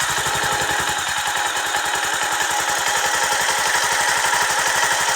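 A motorcycle engine runs close by with a fast, even, pulsing thump and a steady mechanical drone, with no rise in revs and no talk.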